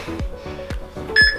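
Interval timer for a 30-minute Tabata abs and cardio workout, giving a few short electronic beeps at a steady countdown pace, with a brighter, higher tone at the end, fairly loud and clear with no talking.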